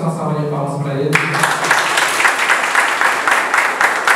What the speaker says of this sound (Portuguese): eu peço uma salva de palmas para ele